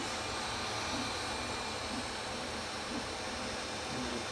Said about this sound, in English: We're going to go up to the jog controls, and we're going to go right down to home all. We're going to just let it home.